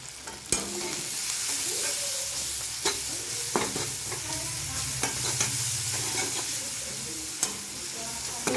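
A spatula stirs food frying in a pan as it browns, with a steady sizzle throughout and occasional sharp scrapes and taps of the utensil against the pan.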